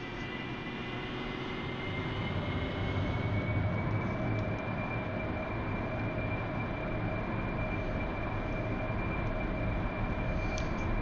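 A heavily loaded aircraft takes off in the DCS flight simulator, its engine drone steady and loud throughout, with a sustained tonal whine rising slightly in pitch over a dense rumble.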